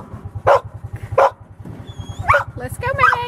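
A farm dog barks twice in sharp, separate bursts on a cold winter farm, followed by yips and whimpering calls, with a steady low engine hum and people talking around it.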